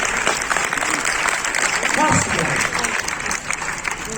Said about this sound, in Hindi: अपने लिए ताली बजाते हुए एक हाथ बोल जाओ